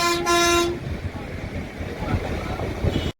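Train at the busy Ambala Cantt railway station: a short horn toot opens, then a steady rumble of rail movement and station bustle continues, loud and close.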